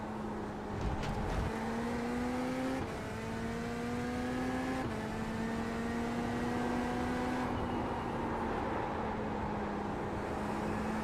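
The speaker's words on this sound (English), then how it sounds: "The Corvette is so much more quiet on the inside than the Porsche." Inside a Corvette GT3 race car in a racing video game lapping Road America, the engine drones in a steady, fairly muted tone, with pitch climbing through gears and shifting with a few abrupt changes.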